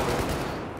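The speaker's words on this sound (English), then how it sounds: "It's a shotgun!" Dense, sustained burst of gunfire in the video game Battlefield 4, with a shotgun firing amid a continuous, loud barrage of shots that fills the whole moment.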